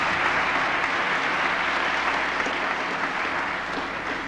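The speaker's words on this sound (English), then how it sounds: "Would you give Tom a wonderful round of applause?" An audience at an Irish-in-America book reading in Tammany Hall, Union Square, breaks into dense, sustained applause, loud and even throughout before easing slightly at the end.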